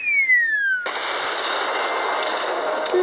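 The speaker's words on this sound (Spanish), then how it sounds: "como ven, ganamos una explosión pequeña" A falling whistle tone cuts into a sudden, loud, hissing blast of a small explosion in the video game Jetpack Joyride that lingers as a steady crackling roar.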